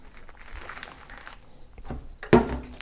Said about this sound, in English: Get the air out of it, put it in a plastic bag, and close it up.